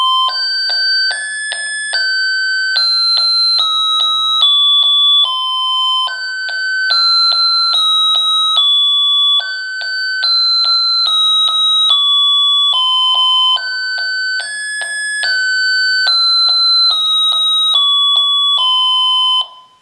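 A battery-powered musical doorbell built from a simple radio construction kit plays a loud, high electronic chime melody of repeating descending tone sequences for about twenty seconds, steady and close, with no talk.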